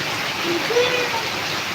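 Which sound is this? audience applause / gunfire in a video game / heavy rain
heavy rain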